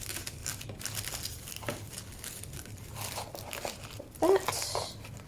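A packaging box is folded shut around a crochet order, making soft crinkling and rustling handling sounds, then a louder crunchy fold near the end.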